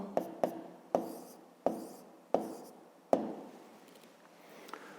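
A pen or pencil writing numbers by hand on paper during a long-division exercise, heard as a series of sharp taps and short scratching strokes at an uneven pace, close and fairly quiet, with no talk.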